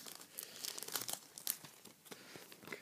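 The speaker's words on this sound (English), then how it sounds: "I'm going to take 3 sleeves. I'm going to put the cards in there." Pokémon cards sliding into thin plastic card sleeves make soft crinkling and rustling sounds. Brief crackles come in irregular bursts, close and fairly quiet, with no voices.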